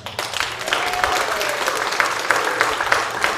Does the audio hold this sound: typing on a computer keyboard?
no